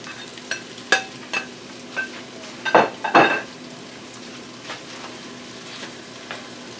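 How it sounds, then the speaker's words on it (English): Turkey and mushrooms stirred in a pot while frying, with a soft constant sizzle beneath scattered utensil scrapes and clinks, including a louder cluster of two metallic knocks near the middle, close and alone without talk. "Stir to mix it together."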